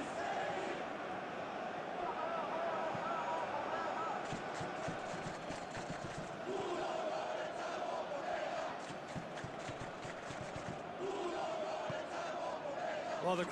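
Stadium crowd at a UEFA Europa Conference League football match between Ludogorets and Servette, a steady roar of supporters swelling with shouts in reaction to a defensive play, dense and continuous.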